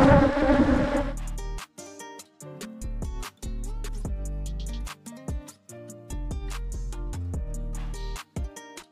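Bees buzzing furiously around a hive and striking the camera, a dense, close swarm drone with sharp rapid ticks of insects hitting the lens, continuous and loud with brief gaps.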